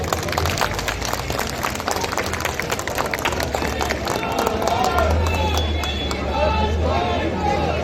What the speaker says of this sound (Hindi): एक बार इन सबके लिए भी ताली बजा दो